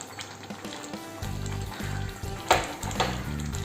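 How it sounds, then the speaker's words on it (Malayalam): Coconut pieces drop into boiling Kerala-style banana pradhaman, bringing a close sizzle and bubbling with a couple of stirring clatters from the pot, steady and moderately quiet. "നമുക്ക് ഈ സമയം കൊണ്ട് നമ്മുടെ തേങ്ങാക്കൊത്ത് ചേർത്ത് കൊടുക്കാം"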